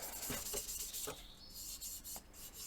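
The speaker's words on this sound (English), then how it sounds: "removing some of that sanding sealer, cutting it back with some fine abrasive" Steady rubbing and rasping of fine abrasive cutting back sanding sealer on a pear wood vase, in repeated strokes, close by with no talking.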